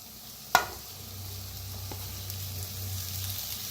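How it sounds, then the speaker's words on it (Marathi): Potatoes are stirred into a spice mix frying in a pan, with a sharp clink of the spoon at the start followed by a low, steady sizzle and faint scraping. "आता बटाटू मिक्स करू ह्याच्यात।"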